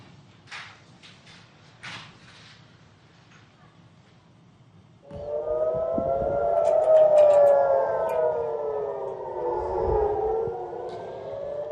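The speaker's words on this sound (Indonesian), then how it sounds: "Sirine meraung-raung saat serangan balasan Iran menyasar sejumlah wilayah di Israel" An air raid warning siren in Israel during an Iranian missile attack starts after a few quiet seconds with scattered small noises, then several overlapping siren tones wail loud and sustained over distant rumble.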